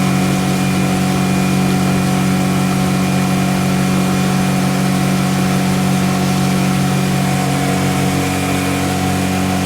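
Outboard engine on a pontoon boat held at high RPM, a loud steady drone with strong sustained tones and no change in pitch throughout, running alone without voices.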